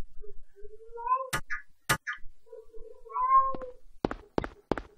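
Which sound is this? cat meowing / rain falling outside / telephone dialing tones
cat meowing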